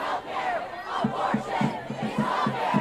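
Protest crowd outside the Supreme Court chanting in unison, loud rhythmic shouted syllables repeating every half second or so over a dense murmur of many voices.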